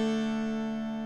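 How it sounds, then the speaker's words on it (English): Open bass and middle strings of a mountain dulcimer ring together in a clear, sustained, close chord that fades only slightly over a brief moment. "So we have an open bass string and an open middle string."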